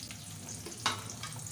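Onions fry in a pan for a Bengali rohu fish and spinach curry, giving a steady close sizzle with one brief louder crackle or scrape midway and no voices.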